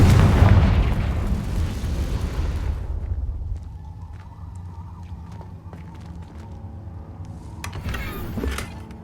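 A Confringo blast spell bursts in the Hogwarts Legacy video game, a loud booming explosion at the start that rumbles and decays over a couple of seconds, followed by quieter game ambience and a smaller impact near the end.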